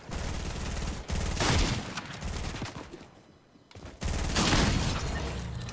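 Rapid bursts of video game gunfire shooting at an enemy, loud and close, in several dense volleys with a brief lull midway before the shooting resumes.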